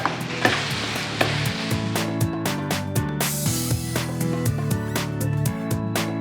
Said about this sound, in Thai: ผัดให้เข้ากันกับพริกแกง